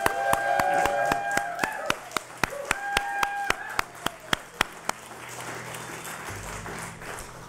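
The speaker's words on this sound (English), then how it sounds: "Let's give a round of applause, kick it off" A group applauds at the NASDAQ closing bell ceremony for TIPRO, the Texas oil and gas producers' association. Sharp individual claps ring out over a tonal chime early on, then the clapping thins and fades to a quieter room.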